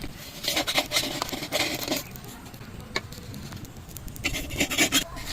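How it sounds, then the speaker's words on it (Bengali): Oil being brushed onto a chitoi (aske) pitha mould in a home kitchen, heard as close, dry rasping and rubbing strokes in two bursts with a quieter stretch between and faint clinks of the pan. "তেলটা বুলিয়ে নিচ্ছি।"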